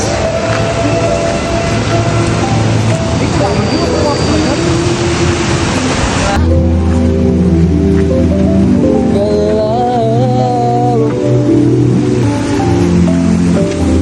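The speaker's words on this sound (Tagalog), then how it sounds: "Ito kami sa malakas ang agos." Strong river current rushing over rocks at a swimming spot in Socorro, Oriental Mindoro, a loud, constant roar of water with no pauses, close and dominant throughout.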